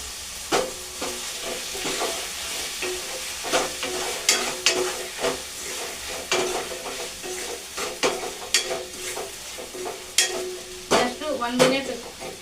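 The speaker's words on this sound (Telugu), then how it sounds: "జస్ట్ అలా వన్ మినిట్ ఫ్రై అయితే చేసుకుందాము" Tomatoes and onions frying in a pan with ginger, garlic and green chillies: a low sizzle broken by frequent spatula scrapes and knocks, close and rhythmic.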